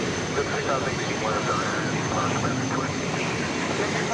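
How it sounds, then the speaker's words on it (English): An American Airlines Boeing 737-800 arrives at Dallas Fort Worth Airport with a steady, loud jet engine roar that fills the whole stretch, heard from some distance. "There in the background, you see American Flight 2659 arriving from Santa Ana, California, 737-800."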